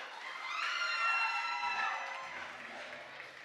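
Audience at a regional oratory competition final in Panamá Oeste claps and cheers for a first-place winner, a faint, distant swell of applause with a few shouts that fades slightly.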